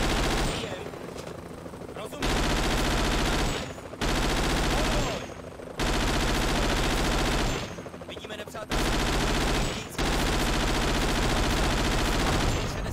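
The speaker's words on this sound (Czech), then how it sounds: "při těch výstřelech z toho kulometu" Machine gun fire in the video game Vietcong, long sustained loud bursts separated by short pauses, close and dominating everything else.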